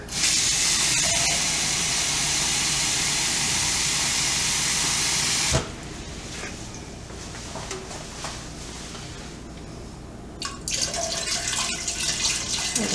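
Water pours into a Power Pressure Cooker XL pot, a loud steady rush of running water for about five seconds, then quieter intermittent splashing and trickling as more is added around the sides.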